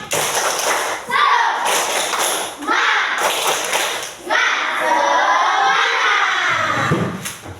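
Classroom of children performing a rhythmic spirit clap, sharp hand claps in quick patterned bursts mixed with shouting and chanting voices, loud and close, with brief pauses between rounds.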